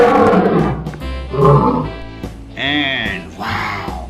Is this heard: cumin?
no